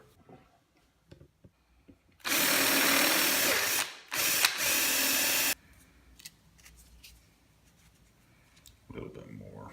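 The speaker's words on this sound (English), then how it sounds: "Now I'm going to bore this hole out to 3/8 so I can put this peg in there." A drill bores a hole out to 3/8 inch in a hard plastic grip piece, a loud steady whir of about three seconds with a brief dip in the middle, set between quieter workshop sounds and light talk.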